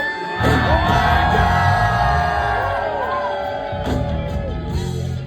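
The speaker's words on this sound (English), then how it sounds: "I want to hear you scream" A large crowd at a heavy metal show screams and yells loudly and continuously, a roaring wall of voices with a brief surge near the end.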